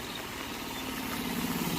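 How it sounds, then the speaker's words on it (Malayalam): An auto rickshaw engine rumbles close by on a rainy trip, a steady mid-pitched motor drone that holds evenly and swells slightly toward the end. "ഒരു ഓട്ടോ വരുന്നു."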